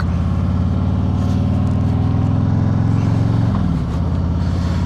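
A Harley-Davidson motorcycle on a lunchtime ride, its engine a loud, continuous low rumble with steady harmonic throb and wind noise, briefly easing off near the end.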